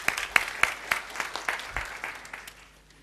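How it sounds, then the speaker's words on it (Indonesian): A church congregation claps together during a sermon, giving a short burst of sharp, fairly faint claps that fade out within a few seconds. "Kita beri tepuk tangan untuk kebenaran ini."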